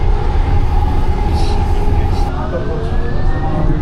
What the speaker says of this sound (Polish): W każdym razie ten tramwaj jedzie